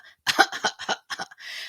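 A short run of harsh coughs, several quick bursts in a row ending in a longer raspy exhale, close and fairly loud.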